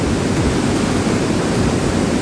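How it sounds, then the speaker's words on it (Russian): An underground waterfall roars from very close, a dense unbroken rush of falling water with strong wind and spray, loud and constant with no voices. "Сейчас я постараюсь подойти прямо под водопад практически."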